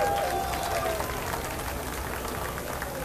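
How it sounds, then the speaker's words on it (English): An outdoor crowd at Murphys Irish Days claps for children in a St. Patrick's Day parade, steady applause at moderate distance with a voice speaking over it. "Give them a big round of applause."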